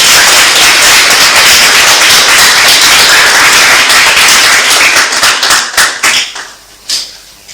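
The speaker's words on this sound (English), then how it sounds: "I think she deserves another round of applause." Sustained loud audience applause for a speaker at a New Force political event, dense clapping throughout that thins into scattered claps and fades near the end.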